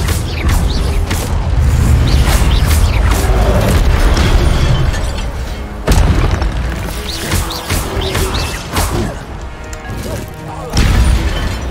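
Loud bursts and crashing booms from an Incendio fire spell in the video game Hogwarts Legacy, several blasts in quick succession with sharp impacts set against dense combat noise.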